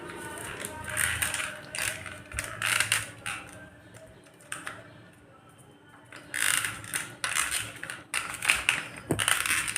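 Hand-cranked dry fruit cutter shaving almonds and pistachios into thin slivers, giving bursts of rapid grinding and ratcheting clicks separated by a short quiet pause, close and moderately loud.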